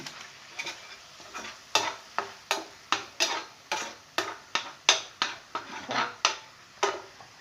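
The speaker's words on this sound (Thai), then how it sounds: "ทอดให้มันหอมก่อนนะคะ ผัดให้มันหอม" Fried catfish is stir-fried in a pan for a spicy dish, with sharp rhythmic scrapes of the spatula about twice a second over a soft sizzle, close and alone with no voices.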